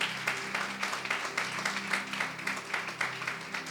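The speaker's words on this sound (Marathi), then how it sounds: "विश्वास असेल तर टाळ्या वाजवा प्रभूला धन्यवाद द्या." A church congregation claps together during a Sunday sermon, a dense, steady round of applause from many hands, moderately loud and sustained throughout.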